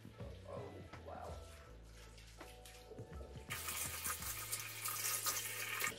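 Tap water rinsing a hair system in a sink, a steady splashing flow that swells louder and brighter midway, with a few soft handling noises.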